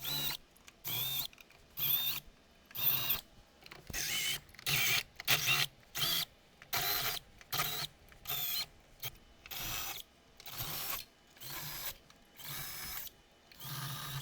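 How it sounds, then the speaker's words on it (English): A spot weld drill bit in a power drill bores out spot welds on a hard-hit Nissan Rogue car body, heard as repeated short high whining bursts of drilling separated by brief pauses, close and loud. "drilling out spot welds"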